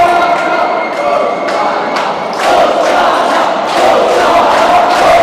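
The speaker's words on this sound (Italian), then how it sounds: "Risuona più forte che mai il coro dei tifosi toscani." Tuscan football fans chant loudly in the stands at a Toscana versus Veneto match, a dense, sustained crowd roar with rhythmic swells and repeated vocal surges.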